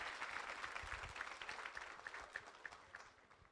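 Faint, scattered applause rises from a crowd at a Kumyk community evening in a Ramadan tent in Moscow. Individual claps stand out, heard quietly and from a distance.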